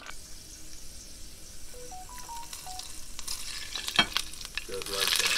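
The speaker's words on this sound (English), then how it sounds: "you want the ginger to brown. You don't want it to burn, you want it to brown. Keep stirring" Ginger browning in plenty of hot oil, stirred steadily, gives a continuous close sizzle and crackle with scraping stir noises that build louder toward the end, alongside a few short electronic beeps.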